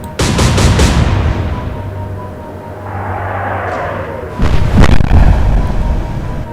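Naval guns fire in Atlantic Fleet: a quick cluster of booming shots opens, a low rumble and whistle follow, then another heavy salvo of blasts lands near the end, with no speech.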